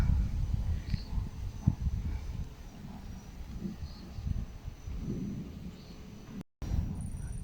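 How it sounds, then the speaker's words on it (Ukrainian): Thunder rolls on continuously over a vegetable garden during the garlic harvest, a deep, steady rumble that sounds fairly distant, with a brief dropout near the end. "І гримить, гримить, гримить, не перестаючи"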